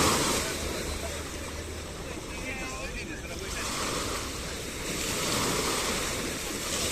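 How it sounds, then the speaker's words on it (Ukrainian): A sea wave washes up on a black sand beach, its roar swelling and easing in slow surges amid steady wind noise, with a voice speaking over it. "Ще хвилька."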